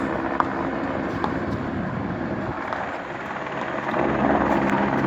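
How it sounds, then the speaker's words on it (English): Black helicopter with a large nose-mounted camera flying over Venice Beach, Los Angeles, at sunset; a steady, continuous rotor chop and engine drone fills the whole stretch at moderate distance, swelling slightly louder toward the end. "Looks like another sketchy black helicopter with the big camera on the front."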